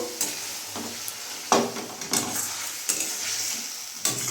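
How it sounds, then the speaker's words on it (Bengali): A spoon stirring fried spices through egg curry in a pan, with soft repeated scrapes and knocks over a low, continuous sizzle. "একটু ভাজা মশলা আমি দিয়ে দিলাম, ভালো করে নাড়াচাড়া করে নিলাম।"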